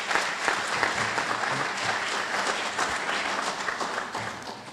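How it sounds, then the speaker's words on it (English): Audience applause fills a meeting hall during a council session, a dense, steady round of clapping from many hands at moderate distance, fading slightly toward the end. "Give a round of applause, please."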